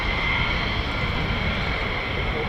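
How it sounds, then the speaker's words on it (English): An F-15 or F-35 fighter jet inbound to land at RAF Lakenheath, a constant loud roaring engine drone holding steady throughout with no talk. "we got another aircraft inbound"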